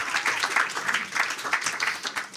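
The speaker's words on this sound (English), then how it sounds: "Let's hear it for Michelle and Robotics for Good." An audience at a venture capital panel on AI startups claps in a brief, lively burst of applause. The clapping is dense and close, with no speech over it.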